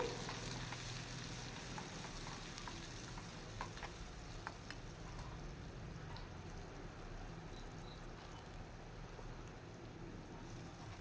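Finely chopped onions go into hot oil for a home-made pizza topping, giving a soft, steady sizzle with faint stirring clicks, quiet and continuous with no talk.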